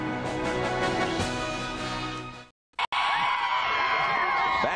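Sold-out stadium crowd at Memorial Stadium in Lincoln, Nebraska, for an Oklahoma State versus Nebraska college football game, roaring loudly and steadily with whoops and shouts, breaking off abruptly into silence before surging back at full volume.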